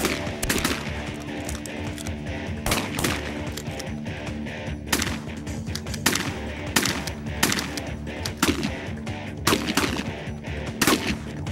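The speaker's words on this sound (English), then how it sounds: "Good shooting, boys, good shooting." Repeated shotgun blasts from a layout blind during a waterfowl hunt, several loud sharp shots fired in quick irregular volleys by multiple hunters, close and dominant throughout.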